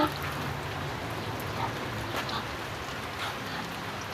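Rain falling steadily outdoors near a cooking area, a continuous soft hiss of drops with no clear voices.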